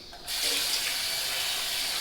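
Cold water gushes from a tap into a sink after a shave, starting abruptly after a quiet moment and then pouring steadily and loudly at close range.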